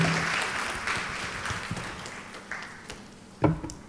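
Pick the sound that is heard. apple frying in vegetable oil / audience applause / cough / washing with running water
audience applause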